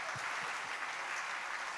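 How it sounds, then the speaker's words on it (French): An audience at a bilingual English-French talk on love claps for itself, producing a continuous, evenly loud patter of many hands with no voices over it. "Clap for yourselves"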